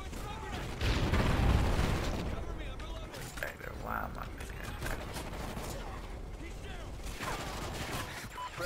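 Video game gunfire crackles in rapid bursts and scattered shots, loudest near the start, with a player talking over much of it.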